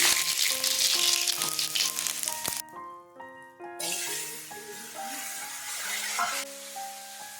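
Cumin seeds spluttering in hot oil for a Bengali katla fish curry, a bright crackling sizzle that drops off briefly, then returns with steady frying, close and without speech.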